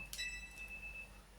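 A bright electronic alarm-clock chime rings briefly in the Pokémon Legends Z-A video game, a short high tonal burst that rings out and fades over about a second, faint and alone.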